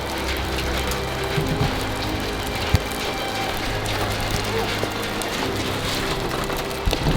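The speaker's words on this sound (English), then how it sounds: "And it's also starting to hail." Hail and rain drumming on a car, a steady patter with occasional sharper ticks of hailstones over a low engine-like hum, heard from inside.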